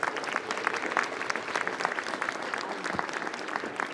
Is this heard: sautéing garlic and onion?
no